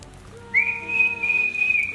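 A single sustained whistled tone imitating the Pombero, a creature of Guaraní folklore, rising then holding steady for about a second and a half, fairly clear with faint background hum.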